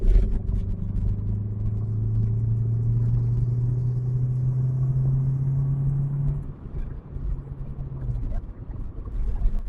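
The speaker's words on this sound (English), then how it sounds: "Kind of want to hear that induction sound." A Rover/Lotus car accelerates hard in third gear, its engine and induction noise rising in a steady droning tone from inside the cabin for several seconds before easing off, with road rumble underneath.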